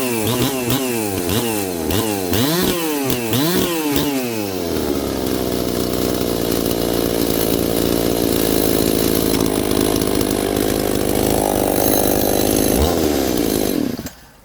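A ported 266SE chainsaw is pull-started with several rising and falling revs, then settles into a steady, loud, close-up idle that runs evenly until it cuts off at the very end.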